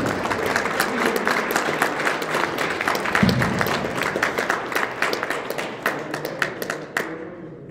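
Applause at an award ceremony for the Kazakhstan Cup: a dense crowd claps steadily for several seconds, then the clapping thins into scattered claps before fading out near the end.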